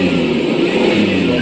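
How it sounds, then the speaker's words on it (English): A car engine revs in neutral with the accelerator held down, a loud, sustained roar close up that swells slightly and holds for over a second. "Somebody is sitting in the car, it's not in gear, they've got their foot on the gas or the accelerator"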